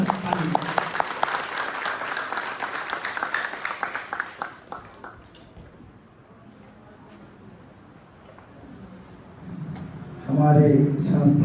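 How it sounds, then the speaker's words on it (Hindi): Loud applause for drama performers and a school principal, distinct claps pulsing for about four seconds before dying away into quiet room noise, with a voice entering near the end. "एक बार सभी कलाकारों के लिए और प्रिंसिपल साहब के लिए जोरदार ताली।"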